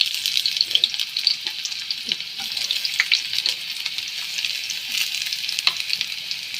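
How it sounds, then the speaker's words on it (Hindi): Chopped garlic crackles and sizzles in hot oil for chilli potato, a dense, continuous frying hiss with small pops throughout and no voices. "सबसे पहले इसमें तेल डालते हैं, गरम करते हैं, और फिर लहसुन डाल देते हैं।"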